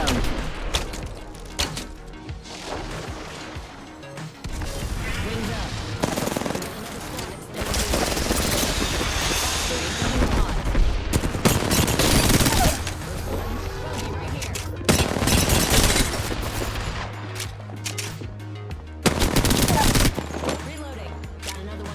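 Apex Legends gunfire while playing Valkyrie, loud bursts and rapid volleys of shots with thuds and effects, heard under someone talking throughout.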